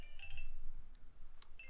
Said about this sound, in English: Somebody's ringing my dad's phone